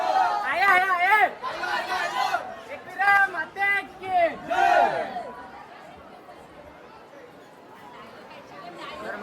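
A crowd of pilgrims queuing at Ekvira temple fills the air with loud overlapping chatter and shouts, voices rising in bursts near the start before easing into a quieter, distant murmur.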